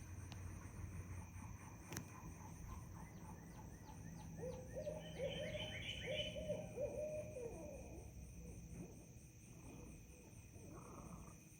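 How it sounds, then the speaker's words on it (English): Owls hoot at night in the woods, a series of low, distant, layered hoots carried over a steady background hiss, with faint talking nearby. "Listen to these owls."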